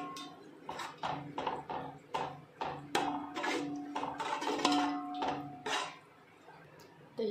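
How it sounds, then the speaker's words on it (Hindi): A spoon stirring yogurt into mutton gravy in a pan, with rhythmic scraping and clinking strokes close up, repeated steadily for several seconds before a brief pause. "अभी अच्छे से दही को मिक्स कर लेते हैं"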